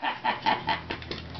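A handheld duck call is blown in a burst of about six quick, nasal quacks in an even rhythm, close and fairly loud, imitating a duck.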